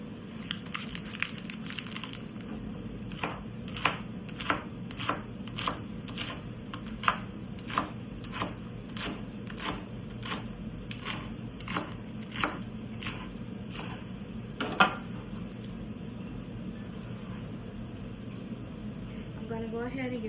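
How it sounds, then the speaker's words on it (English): Knife chopping tomatoes, avocado, red onion and jalapeno on a board: a long run of quick, evenly spaced crisp taps, close and moderately soft, with quiet background hum. "I'm going to go ahead and chop up some tomatoes, some avocado, some red onion,"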